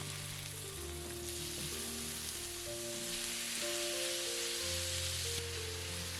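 Sliced beef for Korean bulgogi frying in two big spoonfuls of sesame oil in a pan gives off a steady, even sizzle throughout, fairly quiet, with soft tonal background music underneath.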